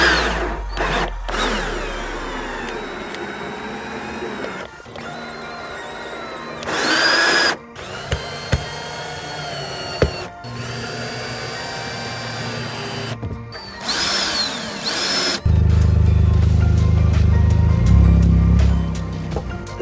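A power drill drives self-tapping screws into carbon fibre side skirts on a car. It whirs loud and close in repeated bursts of varied length, with high-pitched revving runs and brief pauses between screws. Nobody speaks.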